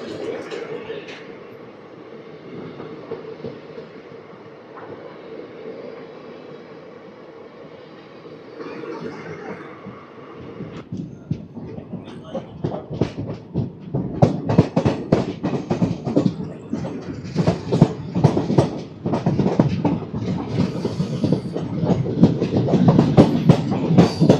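The Narasapur Express rolls along its tracks. A quieter hum early on builds into loud, dense rumbling and rapid clatter for the second half, with voices talking over it.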